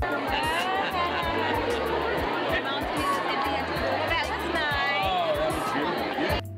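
A crowd of high school students in Los Angeles on the last day of school, a dense babble of many overlapping voices and chatter close around, continuous and lively.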